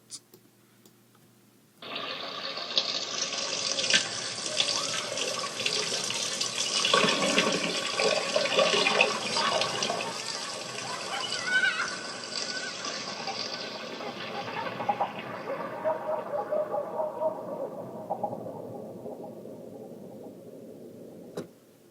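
A sustained synth pad swells in, its LFO-modulated filter slowly sweeping and then closing down, giving a bright, washy tone that turns darker and watery by the end.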